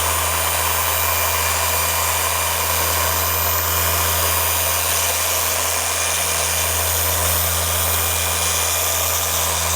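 A dual action polisher runs at speed setting 6 during paint correction on a 2015 BMW F80 M3, giving a loud, constant whirring drone with a steady tonal hum, close and unbroken throughout.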